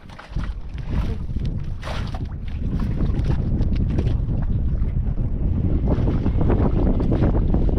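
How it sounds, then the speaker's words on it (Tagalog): Strong wind over the sea buffets the microphone with a continuous roaring rush, steady and loud throughout, with a broad wash of open water beneath it. "Lakas pa ng hangin no."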